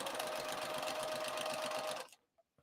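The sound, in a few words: sewing machine stitching a crossbody bag seam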